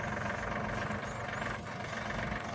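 A steady tractor engine rumbles at a low idle throughout, a continuous mechanical drone with no voices.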